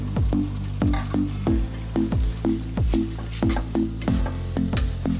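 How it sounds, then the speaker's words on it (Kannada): Two cups of washed rice frying in oil for vegetable pulao, a loud, close sizzle punctuated by a steady rhythm of spoon-stirring scrapes against the pan, with no voices. "ಒಂದು ಸ್ವಲ್ಪ ಎಣ್ಣೆಯಲ್ಲಿ ಇದನ್ನು ಫ್ರೈ ಮಾಡ್ಕೊಳ್ಳೋಣ."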